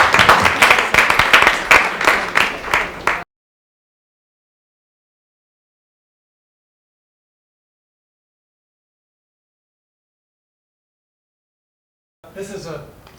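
Audience applause after a presentation at a talk, a burst of dense close clapping lasting a few seconds that stops abruptly, followed by long silence and then brief sound.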